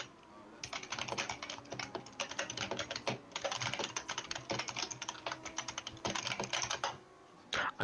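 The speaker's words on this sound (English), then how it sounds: "I'm sorry for the extremely loud typing" Loud, rapid typing on a computer keyboard during a GT3 sim racing broadcast of the Japanese Grand Prix: dense bursts of close, clacky keystrokes with a few short pauses, heard alone without talk.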